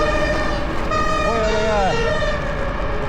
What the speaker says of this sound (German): Feuerwehr unterwegs und wieder rot.